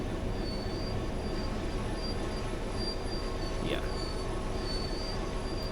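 A Class 66 diesel locomotive in a train simulator game rolls under braking, a constant loud rumble of wheels on rail with a brief faint squeal partway through and no talking.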